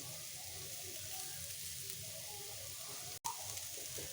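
Steady, even sizzling of potato slices frying in oil on an iron griddle, a continuous crackling hiss broken by a brief dropout.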